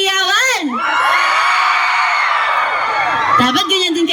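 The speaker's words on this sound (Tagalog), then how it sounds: "Parinig muna ako ng pinakamalakas na hiyawan!" A concert crowd lets out a loud, sustained roar of screams and yells at a singer's urging, rising after a brief amplified voice and holding steady for about three seconds before the voice returns.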